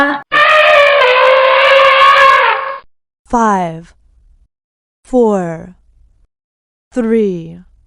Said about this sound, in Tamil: இது யானையோட பிளிரல் சத்தம்